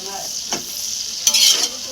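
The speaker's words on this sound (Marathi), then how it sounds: "आपण चांगला कांदा लाल होईपर्यंत परतून घेऊ" Onions for dum biryani fry in a large batch with a steady, close sizzle while a spoon scrapes and stirs through them, producing a couple of louder bursts of crackling.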